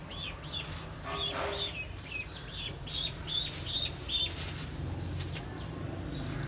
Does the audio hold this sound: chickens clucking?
yes